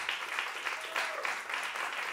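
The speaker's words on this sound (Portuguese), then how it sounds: "Queria pedir uma salva de palmas para o Miguel Miranda, no pandeiro." Applause from the audience at a choro concert. Soft, washing clapping rises and falls in brief swells, heard faintly and somewhat distant.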